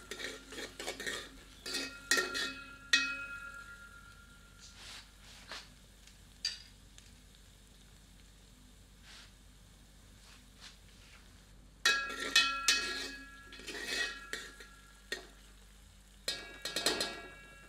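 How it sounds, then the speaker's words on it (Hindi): A metal spoon clinks and scrapes against a pan as green chillies are stirred into frying onions, a soft sizzle beneath; bursts of stirring come at the start and again near the end, with quieter pauses between. "तदुपरांत हरी मिर्च सम्मिलित करते हैं। इसे प्याज में मिला देते हैं।"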